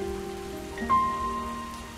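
Rain falls steadily in the video game Deemo II, a soft continuous patter under faint tonal game sounds, with no talk.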